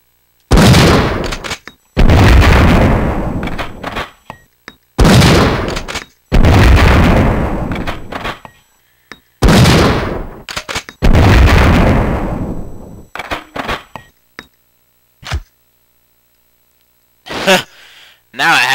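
Enhanced Benelli M3S shotgun in Resident Evil 3 firing several loud, heavy booming blasts, each with a long ringing tail, spaced a second or two apart, with a few shorter pops near the end.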